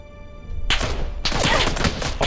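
Gunfire in the PUBG battle royale game starts abruptly as a loud burst of rapid shots, then continues as dense, close, overlapping cracks and rattles with no talking.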